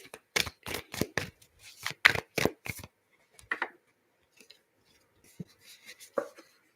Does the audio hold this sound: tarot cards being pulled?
yes